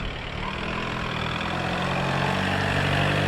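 A car engine idles after a cold start with a steady, low, even rumble, no talking, constant and fairly close throughout.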